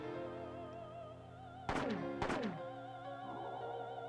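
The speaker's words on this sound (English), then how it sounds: "And squeeze off 2 shots just to say you did." Two heavy gunshots ring out about half a second apart in the video game Parasite Eve, each with a sharp attack and sweeping tail over a steady droning synth music bed.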